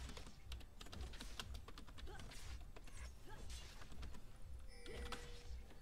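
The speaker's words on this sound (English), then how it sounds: "I'm typing it. So the entire team can see." Rapid clicking of computer keyboard keys during a League of Legends match, quick irregular taps in close succession, quiet and near, with a brief creak and a short electronic tone near the end.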